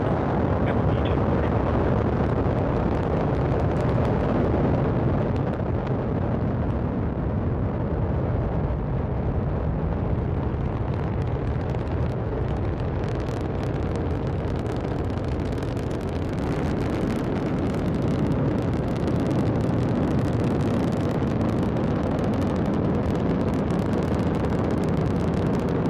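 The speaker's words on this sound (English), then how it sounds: "and liftoff. Go Falcon, go Dragon, and Godspeed Crew-12" Sustained, loud, broadband roar of a SpaceX Falcon 9 rocket lifting off carrying a Dragon capsule, a continuous rumbling thunder with crackle that holds steady for the whole stretch without a break.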